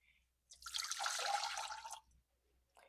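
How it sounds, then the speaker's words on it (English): Water pours into a bowl for bread dough made with instant dry yeast, bread flour and salt, a close splashing stream lasting about a second and a half, with a few faint drips around it and no talking. "First, we're going to put our water in,"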